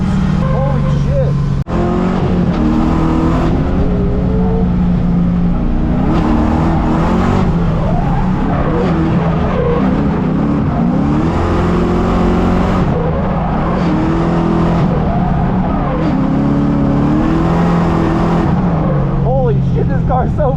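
A loud supercharged LS3 V8 in an E36 race car revs and roars continuously on track, pitch rising and falling as it accelerates, with a voice talking over it.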